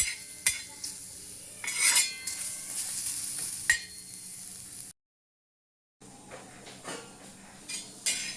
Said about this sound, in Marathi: आता या कांद्याला मी फुल गॅसवर भाजून घेते.